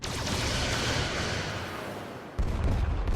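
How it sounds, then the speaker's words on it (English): In the Star Trek Resurgence video game, a starship fires torpedoes, making a loud, sustained rumbling blast that fades and then cuts to a fresh heavy burst of explosive roar, with no talk. "Firing torpedoes."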